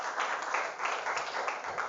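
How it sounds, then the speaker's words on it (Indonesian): Teachers in an audience at a motivational session for educators at an Islamic boarding school clap together, a steady, moderately faint patter of many hands that holds without pause. "Tepuk tangan untuk kita semuanya"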